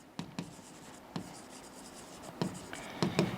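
A pen writes out a set in roster form on paper, heard as several soft, close scratchy strokes and taps spaced irregularly across a quiet background.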